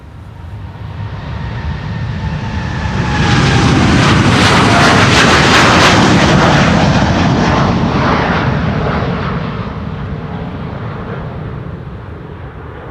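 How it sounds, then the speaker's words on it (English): A KLM Boeing 787-10 Dreamliner departing Amsterdam Schiphol's Polderbaan runway in windy weather, its jet roar swelling from a distant rumble to a loud peak and then slowly fading, with no voices. "This is KLM flight 605 to San Francisco, 787-10 Dreamliner"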